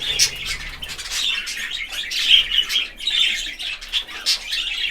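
A budgerigar with a grey-blue chest chirps while held in a hand, a busy run of high, scratchy tweets and squawks close by, with no talking.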